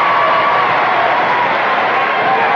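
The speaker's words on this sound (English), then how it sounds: "Let's hear that cheer." Crowd at a field cheers loudly and steadily as a stalled car is pushed off, a dense roar of many voices sustained throughout without pause.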